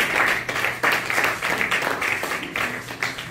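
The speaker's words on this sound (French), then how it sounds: "Give a clap offering unto the Lord." A church congregation gives a clap offering, many hands applauding together in a steady, dense patter with a few cheers, sustained and fairly loud.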